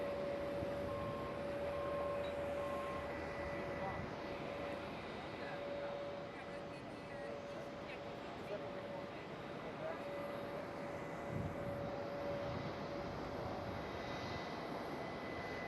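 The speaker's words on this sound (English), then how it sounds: "See a China Southern cargo taxiing towards us" A China Southern cargo plane taxis at Amsterdam Schiphol, its engines giving a steady, continuous rumble with a sustained whine over the top that stays at an even level throughout, mid-distance in an open airfield setting.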